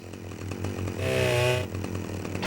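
A chainsaw runs in the video game Manhunt, its motor chugging steadily at idle, then revving up briefly before settling back to a rhythmic rumble, loud and close.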